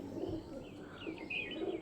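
Pigeons kept for sale, Madrasi and other fancy breeds, coo in low, soft repeated phrases, with faint higher chirps from other birds mixed in.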